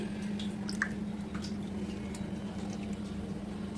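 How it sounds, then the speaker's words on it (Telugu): Raw milk pours into flour batter in a bowl with soft squishing and dripping sounds over a steady low hum. "పచ్చి పాలు కాసిన పాలు కాదండి ఇలా నాలుగు బౌలు యాడ్ చేసుకోండి"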